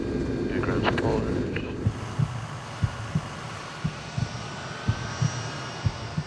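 A military aircraft on a mercy reconnaissance mission lands on a runway with spoilers deployed. A broad, steady roar fills the scene, and a regular series of dull low thumps sounds beneath it, with brief muffled radio-like voice at the start.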